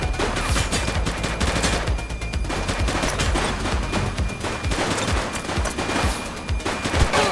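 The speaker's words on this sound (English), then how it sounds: "Shots fired!" Rapid bursts of gunfire from a police shooter video game set on city streets, with dense overlapping shots and automatic fire rattling continuously and loudly throughout.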